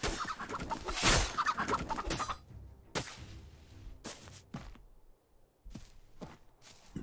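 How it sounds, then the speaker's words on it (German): Turkey gobbling and clucking from the video game Dark and Light, a few scattered calls and brief bursts with quiet gaps between them, fairly close and moderately loud. "Wo kam denn jetzt der Truthahn her?"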